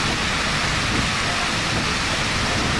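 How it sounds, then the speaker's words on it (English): Heavy rain drums loudly and steadily on the roof of a bus, a dense, unbroken roar with no pauses. "it's quite loud when it rains"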